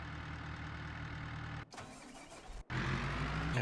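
A truck engine cranks and fires up in Farming Simulator 22, with a steady mid-pitched idle running close by, then a short break and a louder engine rumble at the end.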